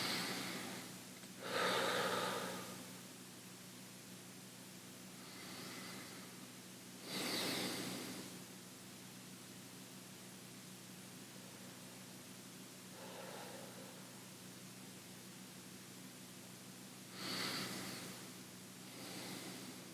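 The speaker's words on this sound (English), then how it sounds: "Follow the triangle round, breathing in, breathing out, and then pausing between breaths." Slow, audible breaths in and out during a guided mindfulness exercise, several soft airy breaths spaced several seconds apart with quiet pauses between them, close and faint, no talking.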